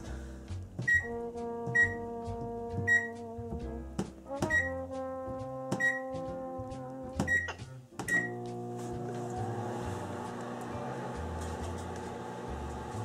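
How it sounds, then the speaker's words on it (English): A microwave oven runs with a steady hum, punctuated by several sharp beeps and clicks of buttons and the door, then a louder whirring drone. "before we eat, we need to make sure it goes in the microwave"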